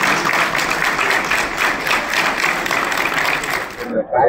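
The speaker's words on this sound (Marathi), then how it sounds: "जोरदार टाळ्या झाल्या" An audience at an international business expo event claps loudly and steadily, dense applause that cuts off abruptly near the end.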